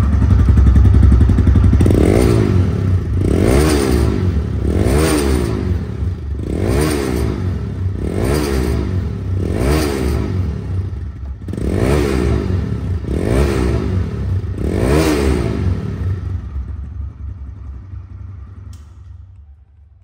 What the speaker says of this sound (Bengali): বাইকটির এখন সাউন্ড কোয়ালিটি আপনাদেরকে শোনাবো।